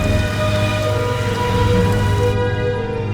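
Heavy rain pours down steadily during a storm, a dense, loud, continuous hiss with a deep low rumble beneath it. Part of the top end cuts away near the end.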